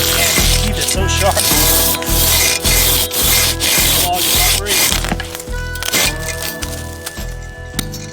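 A KATANABOY 500 pruning saw cuts through wood on a farm with loud, close, rhythmic push-pull strokes, about a dozen rasping passes with crackling fibers, steady and continuous.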